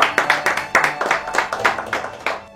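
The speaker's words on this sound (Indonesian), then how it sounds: "Tepuk tangan dong." Audience at a talk show applauds as the guest Lord Adi, a MasterChef Indonesia contestant, is welcomed: a burst of sharp, uneven hand claps with rhythmic peaks, fairly close and loud, lasting a couple of seconds without talk over it.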